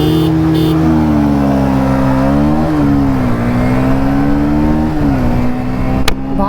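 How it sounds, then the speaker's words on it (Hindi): A Bajaj Pulsar 125 motorcycle engine drones at high revs during a drag race, loud and close, its pitch holding steady with slight rises and dips as the throttle shifts. "भाई पल्सर का इंजन तो यार कसम से मानना पड़ेगा"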